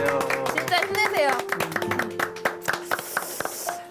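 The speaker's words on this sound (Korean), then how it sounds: "우리 다 같이 준영 씨를 위해 박수 한번 쳐주시죠." Scattered studio audience clapping on a Korean talk show, uneven and fairly close, rising and thinning over a few seconds with a host's voice and some music running underneath.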